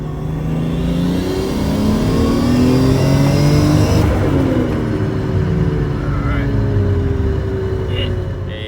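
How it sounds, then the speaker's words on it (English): A Nissan 240SX S14 with an RB20 engine accelerates hard in second gear, its loud, close engine note rising steadily and then easing off, with a voice briefly over it. "second gear pull here"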